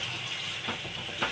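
Water poured into a pan of chicken curry with tamarind greens, a steady rushing hiss that swells briefly twice, without talk.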